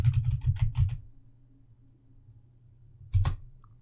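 Computer keyboard typed on up close: a quick burst of about eight crisp keystrokes, a pause, then one louder key press, likely the enter key, with no voice.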